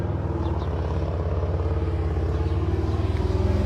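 A car engine drones steadily at an intersection as a white car drives by, a low continuous rumble with a slight pulsing throb, moderately loud and without voices.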